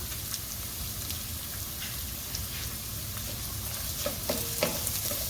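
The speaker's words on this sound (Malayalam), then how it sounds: "ഇനി അരിഞ്ഞു വെച്ചിരിക്കുന്ന പച്ചമുളക്, ഇഞ്ചി, കറിവേപ്പില ചേർത്ത് നമുക്ക് നന്നായി ഒന്ന് മൊരിയിച്ചെടുക്കാം" Green chilli, ginger and curry leaves frying in hot oil, a steady close crackling sizzle with small sharp pops and stirring clicks growing busier toward the end, no talk.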